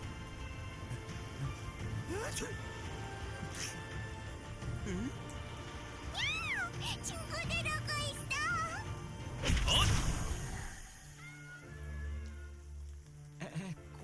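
Several cats meowing in a Brown Dust 2 video game cutscene, a cluster of rising and falling meows in the middle among clatter and whooshes, with spoken dialogue and background music.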